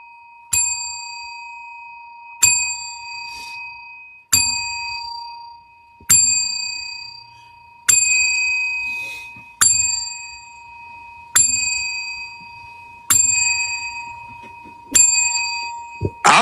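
Ten bright bell dings ring one after another at an even, unhurried pace, each striking sharply and ringing out before the next, loud and close with no talk over them.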